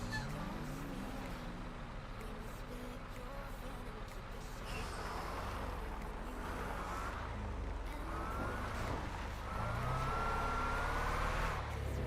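A police car siren in the Hoarding Simulator video game wails faintly beneath steady traffic and engine noise, its rising and falling tone clearest near the end.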